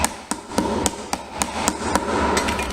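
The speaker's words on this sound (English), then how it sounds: "just use a steel hammer to seat that in." A steel hammer taps fret wire into a ukulele fretboard, about ten sharp, light metallic taps at a fairly even pace, close and clear over a quiet background.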